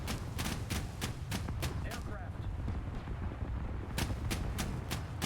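Ship guns in a naval video game fire in a rapid series of sharp, loud blasts, then pause for a couple of seconds before another burst of shots.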